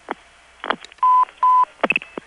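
Tandeming tones from a GTE NX2 crossbar telephone switch in Hahira, Georgia, 1978: two steady beeping tones of about a quarter second each, set between clicks and short bursts of switching clatter, close and fairly loud with no voices.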